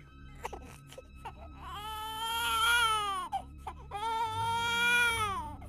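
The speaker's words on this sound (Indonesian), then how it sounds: "tiba-tiba mereka dikejutkan dengan suara tangisan bayi" A baby cries in a spooky mountain-camping tale set on Mount Gede Pangrango, two long wailing sobs with short breathy gasps between, close and clear with no talk.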